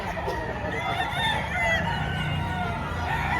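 A rooster crows nearby over a busy background of other fowl and faint voices at a chicken market in Padre Garcia, Batangas, the call drawn out and steady.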